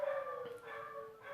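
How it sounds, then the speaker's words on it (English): A dog howls in a long, wavering, sustained tone close by, rising slightly then holding steady, with no talk over it. "Oh, my sweet little dog's singing this morning."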